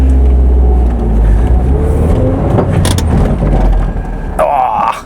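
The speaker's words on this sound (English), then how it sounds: "See if we can do a handbrake turn." MG TF 115 sports car attempting a handbrake turn, a close engine roar with rumbling tyre and body noise, then a sharp high squeal near the end.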